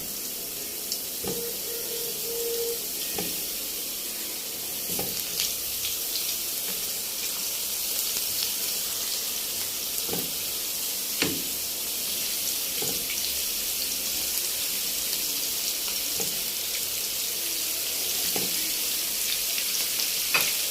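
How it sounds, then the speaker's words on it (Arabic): Kofta frying in melted ghee gives a steady bright sizzle and crackle, with occasional clinks and stirring knocks of a utensil against the pan, no voices. "كده السمنه ساحت معانا، وهنزل الكفته بتاعتي."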